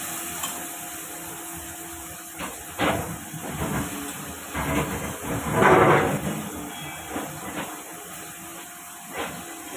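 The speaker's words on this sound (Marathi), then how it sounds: "तर तेलात परतून घेत आहे." Green peas for a matar paneer dish are sautéed in hot oil in a pan, making a steady sizzling hiss that swells in bursts as they are stirred, with no voices.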